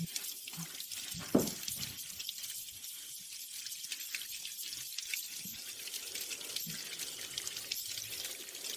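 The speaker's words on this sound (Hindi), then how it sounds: "पाइप फट गया है। पानी बहुत ज्यादा है।" Water gushes and splashes from a burst pipe, spraying steadily with hissing, sink-like pouring and occasional drips.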